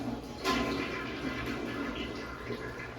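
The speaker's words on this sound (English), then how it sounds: "it'll flush whatever water was in the tank" A toilet flushes out the water left in its tank during a flange replacement job, a steady rushing gurgle close by with no talk over it.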